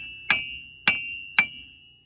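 Three sharp, evenly spaced hammer blows ring out on the hub assembly of a Chevy Silverado, each metallic strike leaving a bright lingering ring that fades, close and loud with no speech.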